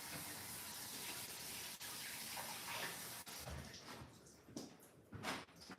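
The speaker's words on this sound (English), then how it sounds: "Let me wash my hands." Tap water runs steadily in a kitchen sink while hands are washed under the stream, a loud close hiss that shifts into uneven splashing as the hands move through it.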